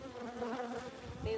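Honey bees buzzing during a midwinter beehive inspection, a steady, close drone with wavering pitch that swells slightly toward the end, with no speech.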